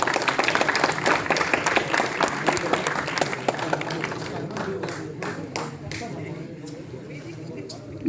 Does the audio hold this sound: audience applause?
yes